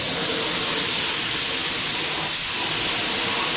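Spray gun laying primer onto a car trunk in a home garage, a steady, close, loud hiss of atomized paint that runs unbroken the whole time, with no talking.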